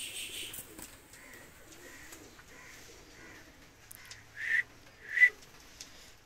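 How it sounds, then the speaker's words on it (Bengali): Nepali pigeons coo softly and repeatedly at close range after being let loose, with low rhythmic calls and two louder coos near the end. The surroundings are otherwise quiet and no one speaks. "দুইটা কবুতর আমি ছেড়ে দেখাচ্ছি।"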